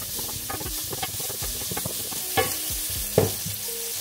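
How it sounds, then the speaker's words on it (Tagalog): Onions fry in olive oil in a hot pan, giving off a steady close sizzle and hiss broken by soft scraping stirs and occasional louder spatters, with no voices. "Fried lang natin yung onions."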